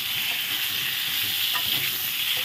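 Pointed gourd (potol) pieces frying with salt in an oiled pan, a steady, close, moderate sizzle with soft stirring scrapes and no talking.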